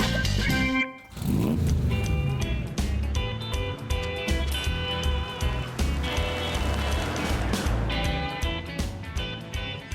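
A classic Chrysler Royal pulls away and drives off, its engine note rising and shifting through gears in a steady, fairly close drone.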